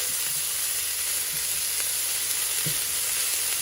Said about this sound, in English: we're going to just let this saute for a little bit